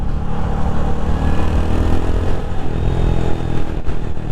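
A 2023 Royal Enfield Hunter 350 motorcycle engine runs steady and loud, a dense rumbling drone held close throughout with slight rises in revs, heard alone without talk.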